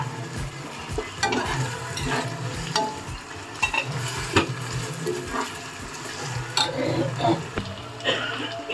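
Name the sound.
frying ginger garlic paste for mutton biryani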